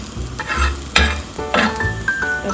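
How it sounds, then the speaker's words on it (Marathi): Green chillies roasting in a hot pan for thecha, sizzling and crackling close up with intermittent scraping and stirring strokes across the pan, no voices. "चला आता ही मिरची पण बघूया झाली तर. थोडीशी अजून भाजू"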